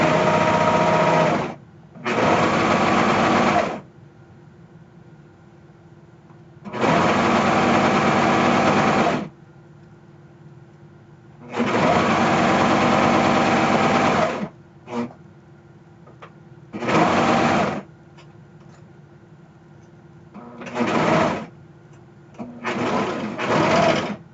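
An electric sewing machine stitches in repeated loud bursts of a few seconds each, separated by short quiet pauses, close by with no talking.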